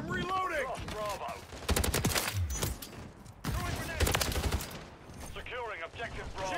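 Battle rifle gunfire in a first-person shooter match, loud rapid bursts of shots cracking in clusters between quieter gaps, with players talking over the action.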